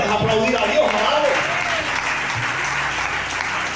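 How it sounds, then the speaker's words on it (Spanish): Congregation applauding God during a church service, a broad steady wash of clapping from many people filling the room, with a voice and some murmuring mixed in over the first half. "¿O puedes aplaudir a Dios, amado?"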